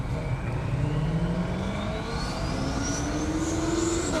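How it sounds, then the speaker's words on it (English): A 700-horsepower Ford Mustang drag car accelerating hard down an airport runway at a drag racing event, its engine note climbing steadily in pitch through the gears, loud and continuous with no talking. "Up next, Paul in that beautiful Mustang. 700 horse, been a best of 169."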